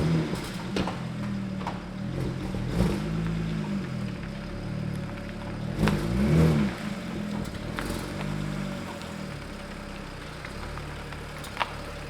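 A BMW E90 335i with its engine warming up on a cold winter day idles steadily, rising and falling with a few swelling revs and occasional clicks and pops close by.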